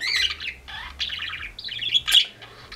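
Ringneck doves in a cage give a series of chirps and calls, close and fairly clear, with short pauses between bursts over a faint low background hum.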